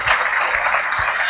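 Audience applause for an honoree at a live university event, a short steady wash of clapping filling the room at moderate loudness with no voices over it.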